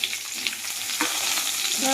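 Chopped onion, tomato and chili frying in hot oil in a pan, a steady bright sizzle with light stirring scrapes, close and alone without talk.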